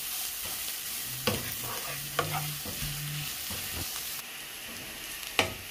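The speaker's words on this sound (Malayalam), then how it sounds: "ഇപ്പം നമ്മുടെ സവാള നന്നായിട്ട് വഴന്നിട്ടുണ്ട്" Onions and carrots sautéing in a pan for Kerala-style masala dosa filling, a quiet sizzle with several distinct stirring scrapes and clinks, close and with no talk.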